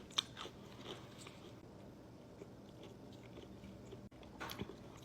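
Crispy thin-crust pizza being bitten and chewed up close, with a sharp crunch near the start followed by quieter, intermittent crunching and chewing, soft overall with no talking.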